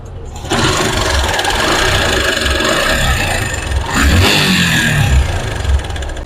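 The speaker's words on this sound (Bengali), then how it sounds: "আপনার ইঞ্জিনের সাউন্ডটা আপনার অনেক বাজে একটা সাউন্ড আসতেছে" A Suzuki Gixxer SF motorcycle engine idles and runs with a rough, bad-sounding tone, a steady close mechanical rattle and buzz throughout, rising briefly around the middle as the throttle is blipped, with no talking.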